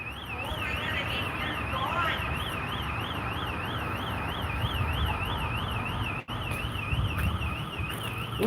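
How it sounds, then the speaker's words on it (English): A bank alarm sounds inside the building, a loud electronic tone that rises and falls in a fast, steady wail and keeps going throughout, with faint background noise and a brief dropout near the end. "These are just alarms going off."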